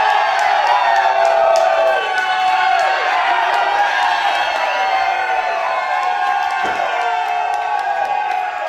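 A pro wrestling event crowd (Prestige Wrestling's Violent World, March 2020) cheers, whoops and shouts in a loud, continuous roar throughout, close and dense.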